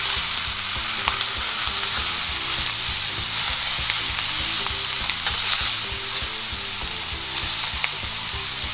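Shank steak fries in a skillet with a loud, dense sizzle and crackle that stays steady from start to finish, with no voices.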